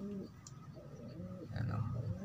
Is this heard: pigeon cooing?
yes